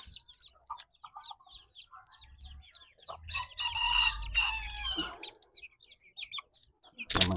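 Small bantam chickens cluck and chirp in a rapid, irregular run of close calls, with a short louder burst near the end.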